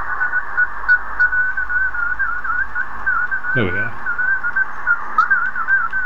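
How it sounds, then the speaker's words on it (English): A CW Morse signal received on an XHDATA (Sihuadon) D-808 radio rings out as a steady, mid-pitched tone with a slightly wavering, chirpy pitch throughout, and someone speaks briefly partway through. "you can hear the chirp produced in the CW signal"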